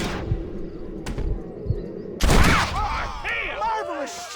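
A sharp gunshot cracks in a western-themed video game, a loud sudden blast followed by echoing reverberation and scattered voices, with a few dull thumps beforehand.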